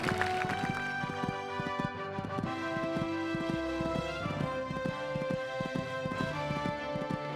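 Horse hooves clip-clopping in a rapid, irregular rhythm over a show-jumping course, a fairly faint series of thuds beneath a bright musical background that carries throughout.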